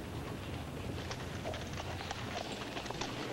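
Hooves clip-clop steadily on a hard surface, a continuous rhythmic clatter of a horse walking, moderately close, with no voices.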